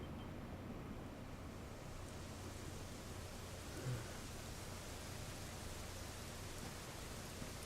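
Steady rain pouring down in Dragon Quest 11, a dense, even, broadband hiss that goes on without a break and stays soft and distant, with no voices.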